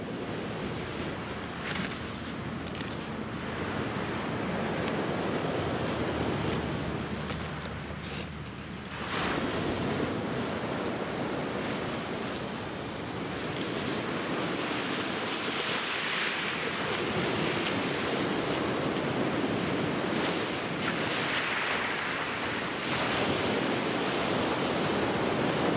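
Ocean surf rolling onto a sea turtle nesting beach, a continuous loud wash of breaking waves with swelling and receding surges, no voices.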